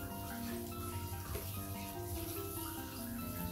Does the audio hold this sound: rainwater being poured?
yes